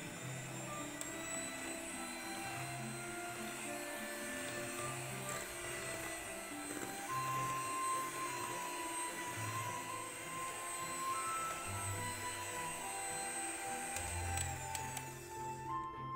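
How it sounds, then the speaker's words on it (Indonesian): An electric mixer beating baked sponge cake batter made with two eggs, a steady droning whir that holds at a fairly constant level through the whole stretch, with no talking. "Kemudian mixer secara bertahap dari kecepatan rendah ke kecepatan tinggi."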